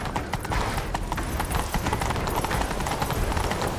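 Horse galloping in The Witcher 3 during a chase, with steady rapid hoofbeats running through the whole stretch amid game ambience, and no talk over it.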